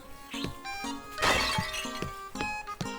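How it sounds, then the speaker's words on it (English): In the video game Zelda Link's Awakening, a thrown pot smashes with a bright shattering crash in the middle, set amid chiming game music and short tonal effects; close and clear, no talk. "Let us throw a pot at you."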